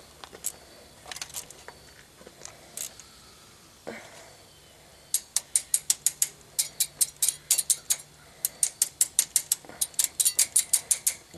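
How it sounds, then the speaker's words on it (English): A hose clamp being tightened with a ratcheting tool on an ISX truck engine, sparse clicks at first, then fast rhythmic bursts of sharp ratchet clicks, close and distinct. "I'm going to put a hose clamp right around there."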